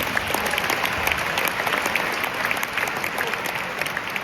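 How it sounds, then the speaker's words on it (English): A convention audience claps in a sustained round of applause, a dense, steady wash of many hands at even loudness throughout, with no voices over it. "Can you give yourself a round of applause?"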